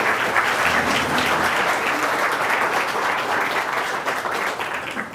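An audience gives a speaker a warm welcome at a science talk, with sustained applause from a sizable crowd that stays loud and even for several seconds, then begins to taper at the end.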